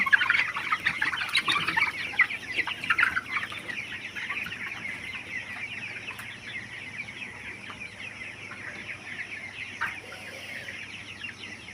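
A flock of grown Tiger chickens on a poultry farm clucks continuously, busy and fairly close at first, settling to a steady murmur of clucks.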